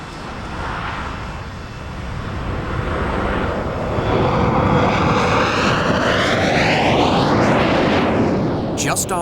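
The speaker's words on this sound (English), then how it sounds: "Comet Yoke Peter took off from London Heathrow bound for Johannesburg." A 1950s de Havilland Comet jet airliner takes off from London Heathrow with a loud, continuous jet roar that swells and rises in pitch as it passes, under a voice.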